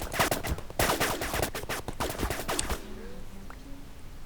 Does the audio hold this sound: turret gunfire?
yes